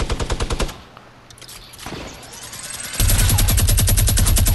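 Automatic gunfire in Fortnite: a rapid close burst of shots, a brief lull, then a second loud sustained burst of rapid fire.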